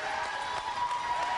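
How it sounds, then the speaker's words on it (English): Basketball crowd at a Bowie State game cheering and applauding after the final result, a steady dense wash of distant voices and clapping throughout. "You can hear the crowd."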